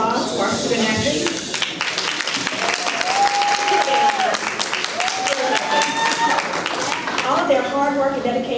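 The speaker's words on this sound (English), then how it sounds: "Let's extend another congratulatory applause to our student athletes" Audience applause for student athletes at a high school athletic signing ceremony, sustained dense clapping from a crowd, with a few voices and cheers mixed in throughout.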